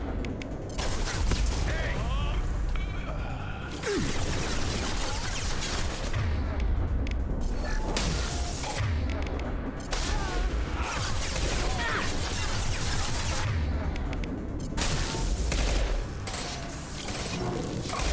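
Gunfire in Mass Effect 2 during a combat sequence, dense bursts of rapid shots and mechanical clatter repeating in loud waves, with brief pauses between volleys.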